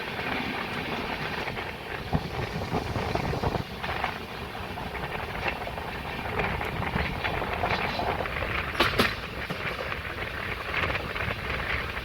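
Simhapuri SF Express, train 12710 from Secunderabad to Gudur, heard while running: a continuous rumbling roll with rhythmic wheel clatter and occasional sharper squeals over the steady hum.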